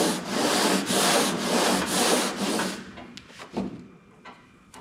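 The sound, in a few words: big flat sander sanding a car body panel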